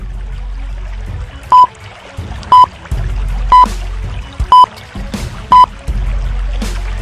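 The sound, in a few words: bubbles rising in water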